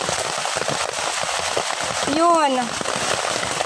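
Steady rain falling outdoors during solo mud crab hunting, a dense, loud hiss throughout, with someone speaking briefly over it.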